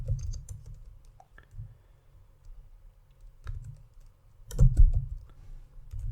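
Keystrokes on a computer keyboard as an SQL query is typed, with scattered clicks and short bursts of taps, one louder cluster near the end, fairly close and with no talking.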